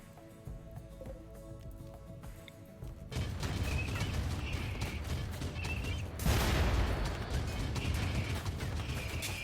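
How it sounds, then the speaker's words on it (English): Explosions and gunfire in the video game RimWorld, a turret blowing up during a firefight: a quiet start, then a sustained roar of shots, and a sharp loud blast around the midpoint. "Turret explosion, I guess?"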